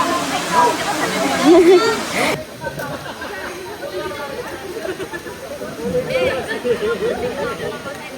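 Waterfall in Dingalan pouring as a steady broadband rush, with people chattering nearby over the water noise, louder during the first two seconds.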